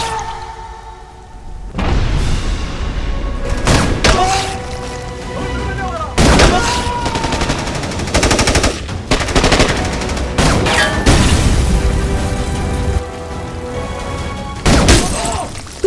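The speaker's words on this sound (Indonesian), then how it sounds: "akan lanjut membunuh si Hussein, muncul sniper misterius yang langsung menembak tentara Irak" Gunfire from a war film about an Iranian sniper facing Iraqi soldiers rings out in loud bursts and single cracks, mixed with booms and a dramatic soundtrack, with brief gaps between volleys.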